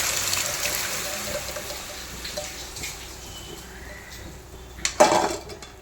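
Water is poured steadily into a pot of broad bean kuzhambu, a soft continuous trickle and splash, followed near the end by a sharp metal clank as it is stirred.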